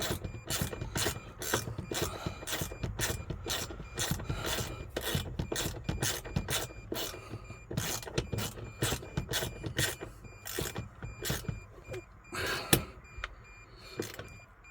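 Close, steady metallic ratcheting with repeated rasping clicks as bolts on a Sprinter van's steering column are tightened, continuing in quick bursts throughout with no talking.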